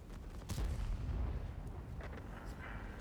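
Airstrike explosions in the World of Tanks Steel Hunter video game: one quiet, deep rumbling boom swells and fades, followed by fainter scattered crackles and thuds with no talking.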